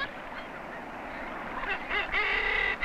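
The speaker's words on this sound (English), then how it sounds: "A member of the gull family is the kittiwake" Kittiwakes, graceful gulls of the Pribilof Islands in the North Pacific, calling in a dense colony, with repeated nasal cries overlapping close and loud over a steady din of other seabirds.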